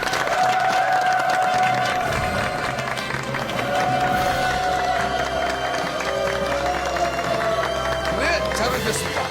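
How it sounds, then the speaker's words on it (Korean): Studio audience applause on a Korean TV health talk show welcomes three guest doctors, a dense, steady wash of clapping lasting throughout, with music and voices running underneath. "박수로 환영해 주십시오."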